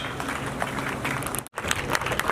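Audience applause at a university function in Kanpur, a dense steady wash of clapping from a crowd, loud and continuous with a brief break midway.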